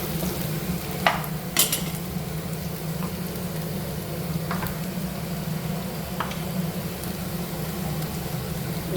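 Ginger and shallots frying in oil in a pan for a prawn fry, a steady soft sizzle with a low hum beneath and a few brief scraping stir sounds.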